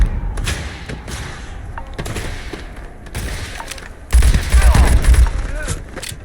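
The Elegance pistol in Starfield fires a quick string of sharp shots, some sparse and some clustered, with a heavier burst of thudding blasts near the end.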